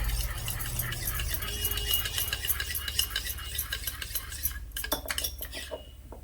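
A spoon stirs a chili powder and black salt mixture in a bowl, giving quick, rapid metallic scraping and clinking strokes close up, ending in a few sharper taps.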